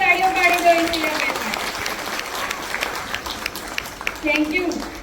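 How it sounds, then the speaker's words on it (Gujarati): A group of guests at a Gujarati baby-shower (Shrimant) celebration claps for Ishitaben, with loud, close speech and chatter running over the clapping. "અહીંયા બધા જોરદાર તાળીઓ પાડી દો ઈશિતાબેન"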